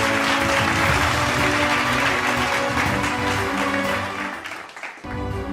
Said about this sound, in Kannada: ದೊಡ್ಡ ಚಪ್ಪಾಳೆ ಬರಲಿ